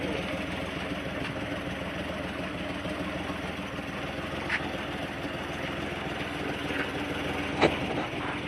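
A restored 1956 Ford F100 pickup idles with a steady, even rumble that holds the whole time, with a couple of faint clicks and no one talking.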